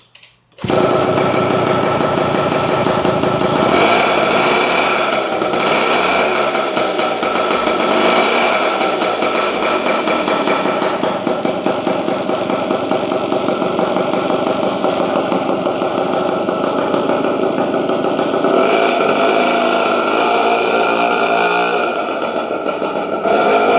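A Yamaha Champ scooter's small engine, fitted with a swapped carburettor, catches and keeps running with a loud, steady, rapid buzzing rattle close by.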